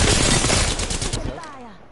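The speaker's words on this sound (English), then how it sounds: "Fire. Shooting." A short burst of rapid video game gunfire rattles loudly for about a second, then cuts off into a brief fading tail.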